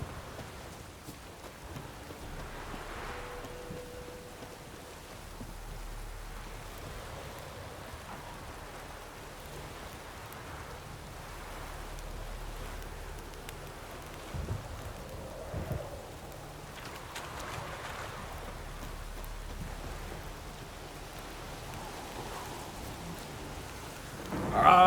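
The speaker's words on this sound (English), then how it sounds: "It is a dark and stormy night, though." Steady rain ambience with soft distant thunder rumbles during a dark, stormy night in The Witcher 3 video game, a quiet continuous wash of falling rain with no talking.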